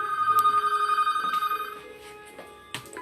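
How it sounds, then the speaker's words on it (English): An indoor telephone gives a close, clear electronic ring in repeated pulsing bursts for about a second and a half. The ring then stops and is followed by quieter clicks and handling sounds. "Let me get that phone."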